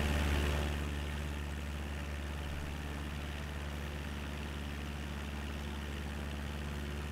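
A flight simulator aircraft engine drones loud and steady in an external view, a constant low hum with a brief swell at the start, no talk.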